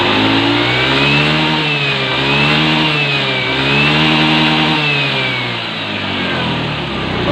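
A Honda Beat fuel-injected scooter engine revs up from idle and holds a high, buzzing pitch with a couple of wavering surges, loud and close with no talk over it.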